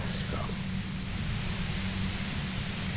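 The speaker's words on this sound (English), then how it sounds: "The violet white noise becomes even more overwhelming closer to the compressor." Dense, steady hiss of white noise near a compressor in the video game Disco Elysium, a loud broadband roar with a low rumbling layer filling the whole stretch without a break.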